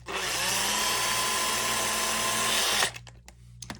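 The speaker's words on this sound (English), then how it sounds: "I'm going to switch my drill down to low speed" A cordless drill on low speed drives screws into a box fan, whirring loudly and steadily for nearly three seconds before stopping abruptly, followed by a few small clicks and handling sounds.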